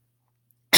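A single sharp cough bursts out after near silence, close and loud, cut off at the end.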